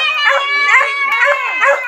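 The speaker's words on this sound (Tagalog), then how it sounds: "Ayan guys, ang daming aso guys." A pack of dogs howls and yips close by in a chorus of overlapping, wavering high-pitched cries with a few short barks, loud and continuous.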